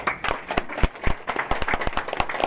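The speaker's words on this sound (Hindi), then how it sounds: "जोरदार तालियां उनके लिए।" At a welfare association meeting in Bhopal, a modest crowd claps unevenly, individual hand claps standing out as sharp, separate hits rather than a continuous roar, lasting a couple of seconds.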